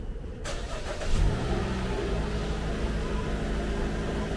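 A car engine cranks and catches during an alternator test, a brief starter whirr giving way to a loud, steady idle rumble close by, with no talk.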